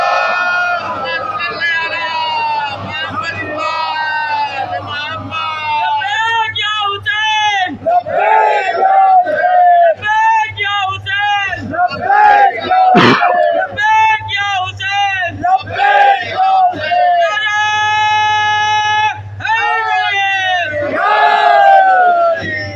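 A crowd at an 11th Muharram majlis gathering in Sandhawali Sadat loudly chants a religious slogan in unison, voices rising and falling in repeated surging shouts with harmonic cries throughout, close and sustained.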